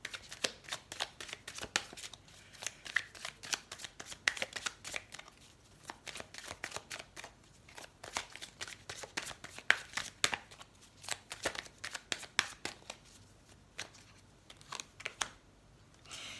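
Tarot cards shuffled by hand in quick repeated riffling bursts, close and crisp, with brief pauses between runs of flicking and snapping cards.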